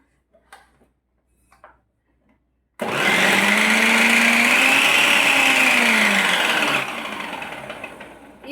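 An electric mixer grinder slicing onions starts with a sudden loud whir after a few faint clicks, holds a steady high-pitched spin with a rising, wobbling tone, then eases slightly toward the end.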